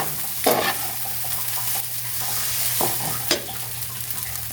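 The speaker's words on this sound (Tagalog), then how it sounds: "Halo-haloin lang natin guys ha." Pinakbet vegetables with squash flowers being stirred in a hot pan: a steady frying sizzle broken by several scraping stirring strokes, up close and with no voices.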